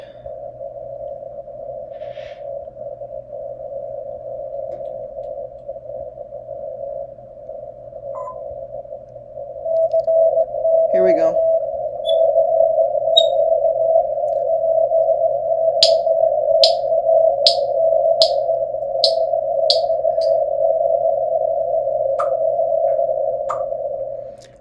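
Amateur radio reception of station N4DH while hunting park activations: a constant steady tone over hiss, growing louder midway, with a short burst of rapid pulsed chirps near the end and a brief spoken aside.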